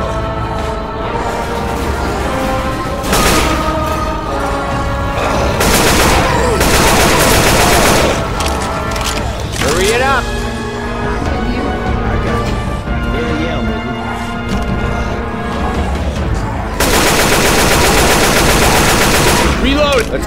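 Left 4 Dead 2 gunfire hammers at a monster in long, loud bursts of rapid automatic shots, with short pauses between volleys and shouting voices mixed in.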